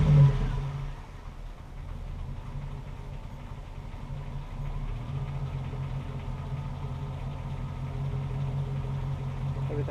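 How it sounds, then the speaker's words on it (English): A truck engine runs at a steady low idle just after starting, with a brief louder surge at the very start, then an even, moderately close rumble with no talk. "when I first started the truck, it kind of had that lag"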